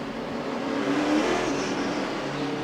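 NASCAR race cars at the Richmond short track rumble and whine along close-packed pit road, a continuous engine drone swelling slightly in the middle, heard moderately loud with no talk.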